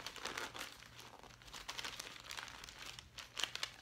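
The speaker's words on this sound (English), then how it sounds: "Or it just rips the tissue paper." Hot pink tissue paper inside a book subscription box crinkles and tears in short soft rustling bursts, close and quiet, with no speech.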